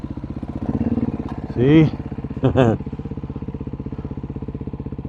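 A dual-sport motorcycle climbing a dirt road with a steady chugging engine throughout, twice revving louder in brief bursts, while the rider says a short word over it.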